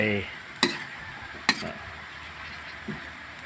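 Vegetables and chillies, including pea eggplant, eggplant and acacia leaves, stir-frying in a pan, a soft background sizzle broken by a few sharp scrapes and clatters of a utensil.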